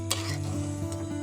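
Spice paste of ginger and chilli being stirred into a pointed gourd curry in a pan, with a steady low sizzle and a few soft scraping strokes close by, no talking.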